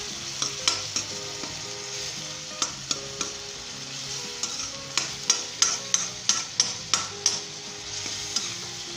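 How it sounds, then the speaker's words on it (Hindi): Spicy scrambled eggs with kasuri methi are stirred in a karahi, a low sizzle under repeated sharp metal spatula taps and scrapes that cluster into a quick rhythmic run toward the end. "मिक्स कर लें इसे अच्छे तरीके के साथ।"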